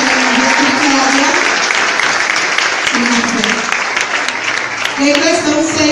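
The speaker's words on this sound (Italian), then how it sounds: "loro meritano un grande applauso" A large crowd applauds two animators in a loud, continuous wash of clapping that fills the whole stretch, with voices and cheers mixed in throughout.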